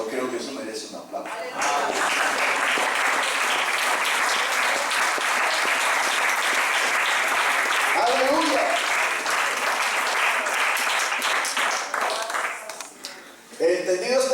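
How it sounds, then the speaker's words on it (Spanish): A church congregation breaks into sustained applause, loud dense clapping that swells and holds for about ten seconds. Speech comes before it and again as it fades. "Yo creo que eso merece un aplauso."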